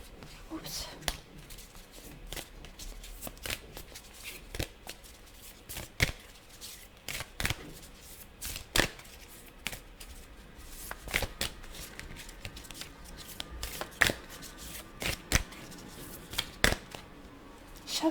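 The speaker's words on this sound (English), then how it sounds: "Shuffling these cards." Playing cards being shuffled repeatedly up close, quick riffling bursts recurring every second or so, while someone talks softly underneath.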